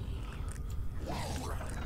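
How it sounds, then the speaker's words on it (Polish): A door creaks slowly open in the horror video game Amnesia, a faint, drawn-out groaning creak rising over a low dark ambient hum. "Dobra, na 3-4 otwieramy drzwi."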